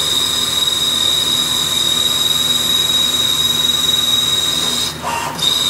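A Hardinge CNC lathe cuts a barrel tenon dry, giving a loud, continuous metallic whine with a sharp high squeal held throughout, briefly dipping near the end.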